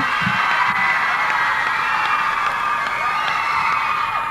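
A young crowd at a 1993 Rock Eisteddfod school performance cheers and whoops for a performer, a loud, sustained wash of shouting and high-pitched yells with scattered clapping.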